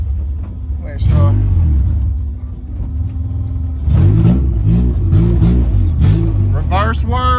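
A Honda CRX engine revs close by in a few short, rising bursts, held back at a limited ceiling, over a steady idle rumble.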